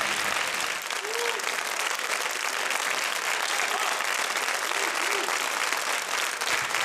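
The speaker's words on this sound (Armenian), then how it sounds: "Ծափարենք եւ շնորհակալություն։" Sustained audience applause at a concert fills the hall from start to finish, steady, dense and fairly loud, with no voices standing out.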